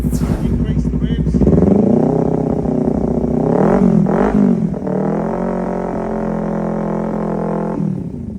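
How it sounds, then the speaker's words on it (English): A motorbike engine is revved during a charging system test, rising from idle to a loud, climbing rev that swells twice before settling into a steady high drone, with someone talking over it. "Increase the revs."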